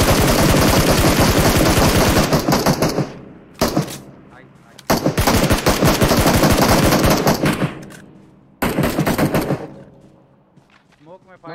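PUBG Mobile gunfire: rapid automatic bursts, loud and close, come in three long volleys separated by short pauses, the last fading out, with voices talking around them.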